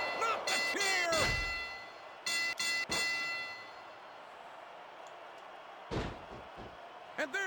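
A steel chair crashes down in WWE SmackDown! vs Raw 2006, loud metallic slams ringing out at the start, then several sharp clangs follow in bursts, with crowd noise and commentary mixed beneath.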